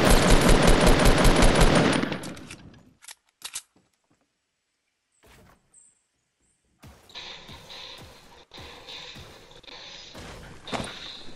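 Rapid, loud automatic gunfire from the video game Fortnite rattles for about two seconds, then gives way to scattered thuds and a busy, noisy in-game backdrop.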